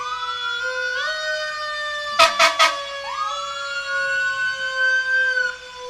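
A fire engine siren, engine 4 in a Memorial Day parade, wails loud and steady as the truck passes close by. Three sharp horn blasts cut in partway through, and the siren's pitch slides as the truck goes past.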